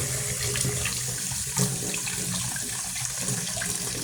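A tap runs with cold water while eggs are washed beneath it, giving a steady, close gushing stream with slight splashing and no speech.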